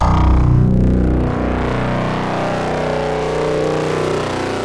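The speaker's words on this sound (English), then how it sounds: "Saturator sounds incredible if you modulate it" A sound run through a modulated Saturator distortion effect in Ableton gives a loud, gritty, harmonically rich tone whose overtones shift and sweep over several seconds, starting with a heavier low burst before settling into a steady buzzing drone.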